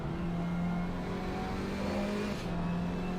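Race car engine in a racing sim on throttle out of a hairpin at Barcelona, a steady loud drone with a sustained engine tone that holds and shifts slightly, continuous with no talk over it.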